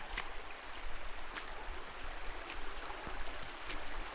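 Water streams across a hiking trail near Castellane in the Verdon regional park, a steady rushing babble close by with a few splashy spikes and no talking.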